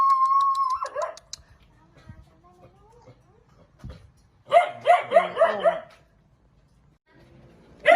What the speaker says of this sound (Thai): จะมีเสียงสุนัขนะคะเห่าบ้างนะคะ เพราะว่าสุนัขค่อนข้างเยอะค่ะ